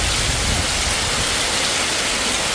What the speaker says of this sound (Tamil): காற்று மழையும் சணல் மழை பெய்து கொண்டு இருக்குது